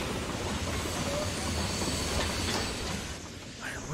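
Freight train in Transport Fever 2 slowing to a stop, a dense continuous rumble of rolling wagons with a hissing, squealing edge, loud and close throughout with a slight fade near the end.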